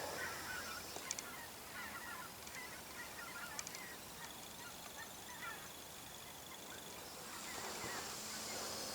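Faint honking of barnacle geese passing overhead, scattered calls over a soft outdoor hiss, growing slightly louder toward the end.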